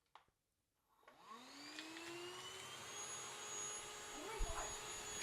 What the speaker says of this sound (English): now you're going to have to vacuum it